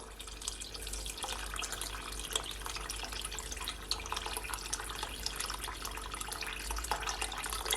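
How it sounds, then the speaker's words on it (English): Steady splashing of water poured from a kettle into a pot, a continuous broadband rush with small bubbling spikes, close and fairly loud, no voices. "I'm adding some water from my kettle"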